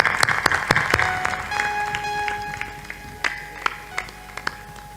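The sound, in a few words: audience applause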